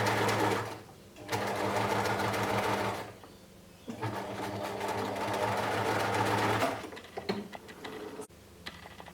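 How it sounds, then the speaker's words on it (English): A sewing machine runs in loud, steady whirring bursts while stitching the crotch seam of a pair of boxer shorts, pausing briefly between runs, with a few ticking mechanical clicks near the end. "So we need to go forward for a couple of stitches, and then we need to reverse, and then keep going straight."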